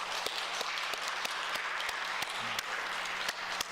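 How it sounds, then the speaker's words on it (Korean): A church congregation at a Parents' Day service claps together in a dense, even round of applause that carries steadily through the few seconds, with no voices over it. "우리 소망회에게 박수 한번 쳐드릴 수 있을까요?"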